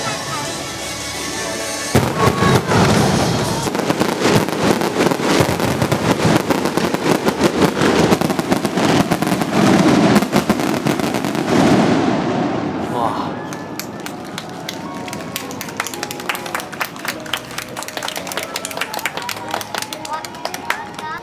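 Fireworks burst overhead at an evening display at Huis Ten Bosch in Japan, dense loud booms and crackles followed by a run of sharp pops, with a crowd talking and exclaiming throughout.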